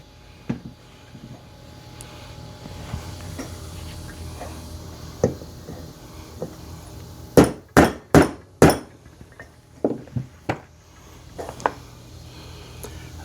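A hammer taps a part into place on a mower repair, with scattered light knocks followed by a quick burst of four sharp, loud strikes and a few softer taps afterward, close by with no talking.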